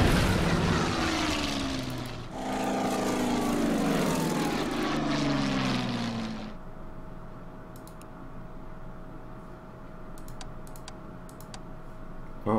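Bomber aircraft engines droning loudly in the strategy game Order of Battle, sweeping in pitch over several seconds before fading to a low steady hum with faint clicks.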